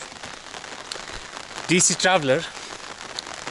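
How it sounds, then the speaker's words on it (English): Steady rain patters on surfaces in McLeodganj, a continuous hiss of drops, while a voice speaks briefly over it midway. "will now show you the rain in McLeodganj, because why not? Just because it's raining"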